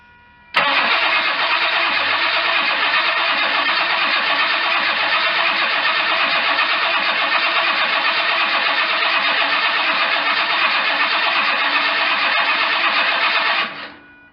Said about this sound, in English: Let's just give her another crank.